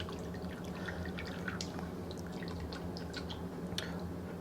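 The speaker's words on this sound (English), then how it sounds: "Let's do a nice slow pour on that." Vintage Hexol pine oil germicide poured slowly into a bucket, a faint trickle with scattered small drips and splashes over a low steady hum.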